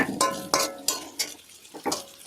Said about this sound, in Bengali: এখানে হালকা করে লবণ দিয়ে দিয়েছি, ভেজে নেবো পেঁয়াজটা।